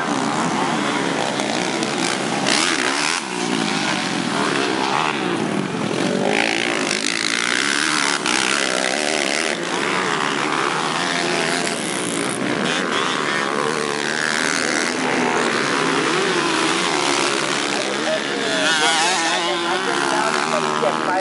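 Four-stroke motocross motorcycles race in a Super Cup class event, their engines producing a continuous, loud, buzzing roar that rises and falls as they pass, with an announcer talking over it.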